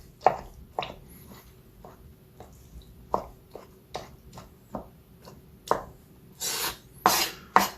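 A knife slicing through very well-cooked roasted peppers on a board: a series of short, sharp cutting taps at uneven intervals, close and clear, ending in a few longer, louder rasping strokes, with no talking.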